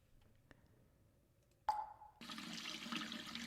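Water in a video game: a faint click and a brief tone, then a sudden loud gush of running water that carries on steadily until the end.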